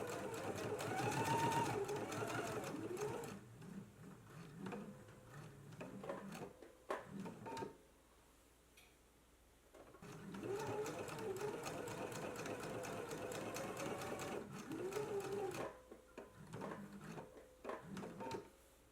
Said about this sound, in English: let's go ahead and do our edge stitch and top stitch now